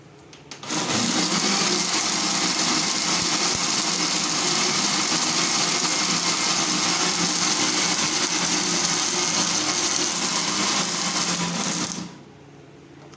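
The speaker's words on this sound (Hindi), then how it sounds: "दोबारा से इसको ग्राइंड करेंगे।" An electric blender grinds falsa fruit for juice, giving a loud, steady motor whir that starts abruptly, runs unbroken for about eleven seconds, then stops.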